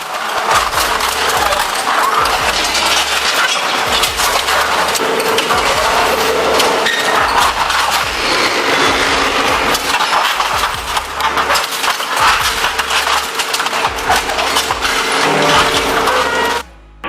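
An industrial scrap shredder chews through stubborn scrap tires, a loud continuous grinding and crushing roar with steady low rumble and crackling impacts throughout, cutting off abruptly at the end.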